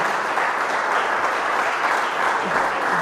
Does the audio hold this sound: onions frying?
no